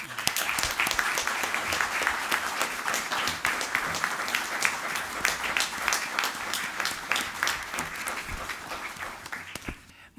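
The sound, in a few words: applause at a ceremony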